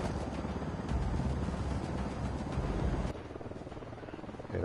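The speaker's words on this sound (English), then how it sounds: "I don't know if I can shoot down this helicopter because it's just circling me." Helicopter circling overhead in the video game Ghost Recon, a steady rotor thrum and whine holding at moderate level, dropping slightly toward the end, with no talk.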